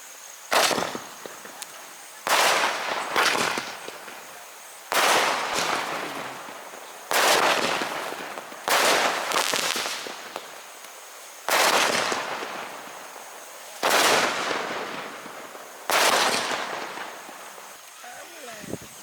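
Firecrackers bursting in a series of about nine loud, close blasts, each a sharp crack trailing into crackling rattle, spaced every couple of seconds with people talking in between.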